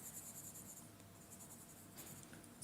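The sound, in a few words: graphite pencil shading on paper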